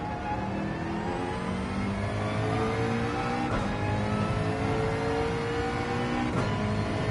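A race car engine in Gran Turismo 7 revving steadily at high speed, a continuous loud engine drone with rising and falling pitch through gear changes, no talking.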